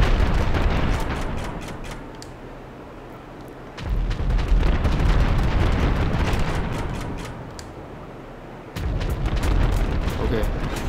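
Heavy in-game explosions boom across the ground in GTA 5 Online while an aircraft flies overhead, with deep rumbling bursts and two sharp onsets under a continuous roar.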